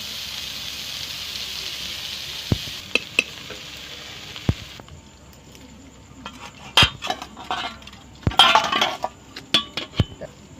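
Whole spices for bhetki fish biryani sizzle in hot oil in a wok with a steady close hiss that cuts off midway. Sharp utensil clinks and scrapes against the pan follow.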